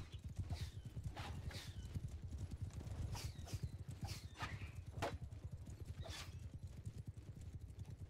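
Horse hooves clip-clop in a rapid, steady rhythm during a video game battle, with a whinny among them, fairly faint and continuous, and no clear talk over them.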